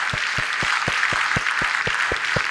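Congress audience at a vegetarian congress applauding the government, steady broadband clapping with distinct sharp claps standing out at a regular pace, fairly loud and without speech.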